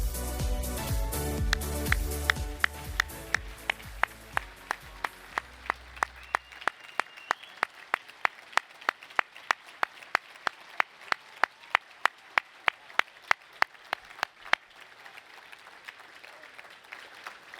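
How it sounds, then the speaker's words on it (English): An audience gives steady, sparse applause with distinct individual claps ringing out at an induction ceremony for a soccer team's hall of fame honors, following a louder stretch of music at the start. "Hold your applause"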